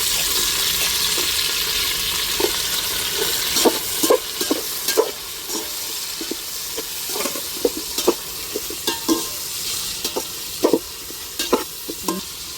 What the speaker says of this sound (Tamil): இப்போ மிளகா பிரியாணி இலை தக்காளியை சேர்த்துருவோம்